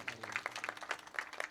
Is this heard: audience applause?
yes